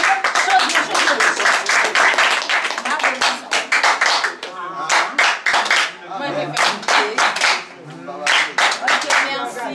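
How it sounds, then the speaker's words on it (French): A gathering at a Haitian choir event breaks into clapping, sharp hand claps in uneven bursts that rise and fall, with voices talking and calling out over them. "Applaudissez les vivants."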